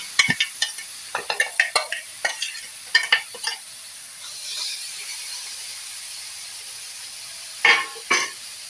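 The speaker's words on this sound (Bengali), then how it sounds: "এটাকে দিয়ে আঁচ কমিয়ে আমি এটা আস্তে আস্তে নেড়ে নেড়ে তৈরি করবো।" Grated coconut is stirred in a wok on a gas flame, giving a run of sharp scraping strokes over a soft sizzle, then a quiet hiss, a long pause, and two more scrapes.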